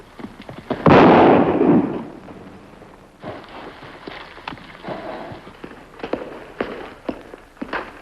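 A loud burst of gunfire rings out in an old Western radio drama, one big blast followed by a quieter stretch with a few scattered sharp pops.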